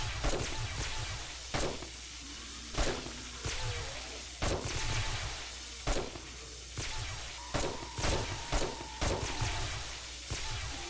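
Gunfire in the survival game 7 Days to Die, aimed at hulking demolisher zombies: a string of sharp, loud shots spaced irregularly, sometimes in quick pairs, over low ambient noise.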